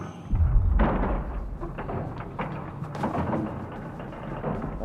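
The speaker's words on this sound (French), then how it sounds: "Alors, en arrière-plan sonore, vous entendez ces explosions" Background explosions in the video game Inside, a series of deep booming thuds and rumbling bursts rolling in at irregular intervals, fairly loud and reverberant with no talking.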